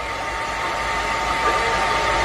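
A hair blower runs steadily at close range, giving a continuous airy whir with a faint motor hum and no breaks or talk.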